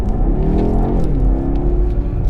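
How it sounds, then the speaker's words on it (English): Twin-turbo V8 of a BMW X6M Competition accelerating, a loud steady rumbling engine note rising in pitch and then settling into a smooth droning pull, heard from inside the car with no talking. "that was a nice bit of noise then from that twin turbo V8"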